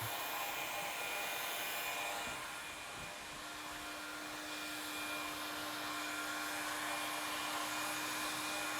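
A heat gun blows hot air onto window film to shrink it, a steady airy roar with a faint tonal hum that dips briefly midway and then resumes, heard close and alone.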